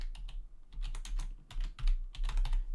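Typing on a computer keyboard, a quick irregular patter of key presses in short bursts, close and moderately quiet.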